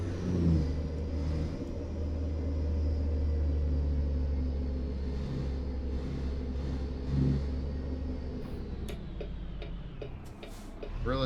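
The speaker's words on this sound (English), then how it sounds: "Realistic engine sounds." A heavy truck engine in American Truck Simulator drones steadily and loudly at low pitch for the whole stretch, with a slight swell and fade in revs, no talking over it.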